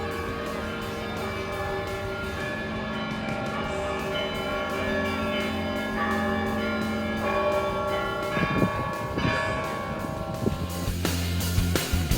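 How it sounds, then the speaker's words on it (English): Church bells ring out continuously over Red Square in Moscow, layered tones sustaining and overlapping, with a few louder strikes toward the end. "The red square one more time with the sound of its bells."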